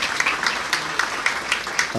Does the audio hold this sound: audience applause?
yes